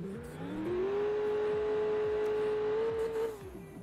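A car engine in the driving game BeamNG.drive revs up to a loud, sustained high-pitched whine, holds it for a couple of seconds, then eases off, with rapid rough pulses running underneath.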